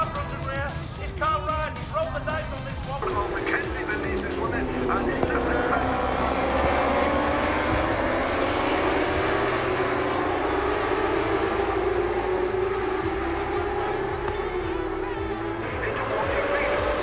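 Superbikes at Brands Hatch sweeping past on their warm-up lap, a loud engine roar that rises and holds with a long pitch sweep, a commentator talking over it.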